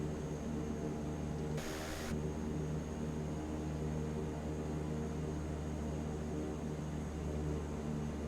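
De Havilland Canada CL-415 aircraft in Microsoft Flight Simulator 2024 flying with flaps out at about 100 knots: a constant droning engine hum with a steady whine, interrupted once by a short hiss, with no talking.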